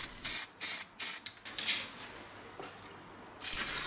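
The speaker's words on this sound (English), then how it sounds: "So this is an enamel paint, and because of the cold conditions, it's coming out the spray can like absolute rubbish" Enamel spray paint hisses from an aerosol can in cold conditions, in short sharp bursts of spray followed by a longer sputtering blast, close and alone.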